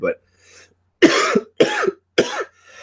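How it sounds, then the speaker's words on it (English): A man with a bad cough coughs loudly three times in quick succession, each burst harsh and close, after a brief spoken word. "I apologize for the loudness of my cough"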